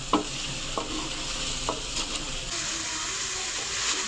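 Chicken and spices roast in a pan, a steady close sizzle broken by a few distinct scrapes and knocks of a stirring spoon, with no talking.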